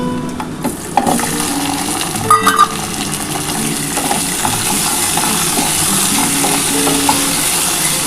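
Food fries loudly in a pan, giving a dense, steady sizzle with a few sharp metallic clinks of a utensil near the start and occasional stirring scrapes, with no one talking.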